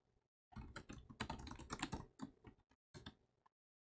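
A password typed on the keyboard of a Pinebook Pro laptop running Manjaro ARM: quick, close clicking keystrokes in two bursts with a short pause between them and a final few taps, with no talking.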